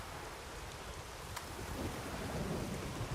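A thunderstorm in The Witcher 3 video game: steady rain hisses and patters over a low rumble of thunder that swells toward the end, with a single sharp crack partway through.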